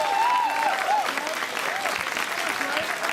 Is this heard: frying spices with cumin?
no